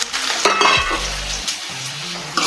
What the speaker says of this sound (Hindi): ये डाल दिया मैंने कढ़ाई में छोंक।